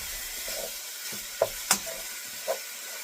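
Sausage fries quietly in a pan while being broken apart, a soft, low sizzle broken by a few sharp utensil scrapes and taps against the pan.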